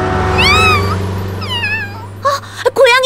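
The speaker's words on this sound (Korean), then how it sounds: "길을 잃은 고양이인가 봐." A cartoon cat in an animated traffic-safety campaign gives several clear, drawn-out meows in succession, loud and close over a steady background music bed.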